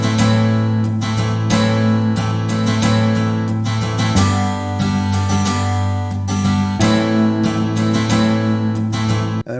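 Two layered synth parts are pitch-bent downward with the mod wheel throughout a dense visual-novel soundtrack, sustained tones sliding under steady rhythmic music that plays loud and continuous with no talking.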